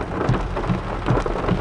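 Heavy rain from Tropical Storm Grace in Negril, Jamaica pours down in a dense, steady hiss, loud and continuous with no gaps.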